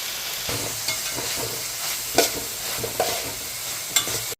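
Onions sautéing with salt in a pan for a Kerala-style chicken curry, sizzling steadily while a spoon scrapes and taps the pan in repeated strokes, near and with no voices.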